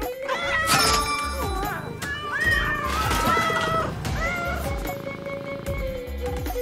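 Several cats meow and caterwaul repeatedly in a cat delivery video game, overlapping cries over game music and clinks.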